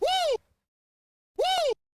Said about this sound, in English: That's the African